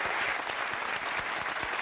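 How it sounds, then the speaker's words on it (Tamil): Studio audience applause on the set of a Tamil TV celebrity show, a steady dense clapping that fills the whole short stretch with no voices over it. "மிகப்பெரிய கைத்தட்டல் தான்."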